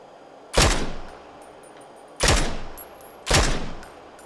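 Three separate gunshot bursts from PUBG, each a sharp, loud crack with a trailing echo, spaced roughly one to two seconds apart over quiet ambience.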